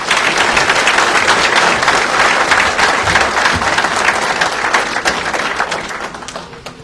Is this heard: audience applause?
yes